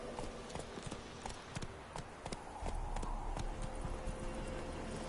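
Roach, a horse in a video game, gallops with rapid, rhythmic clip-clop hoofbeats over a dense ambient game soundtrack. A low rumble builds partway through.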